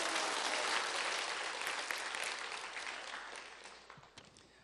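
Congregation applauding at a Sunday night evangelism testimony service in a Korean church. The broadband clapping is loud at first and then slowly thins and fades over several seconds.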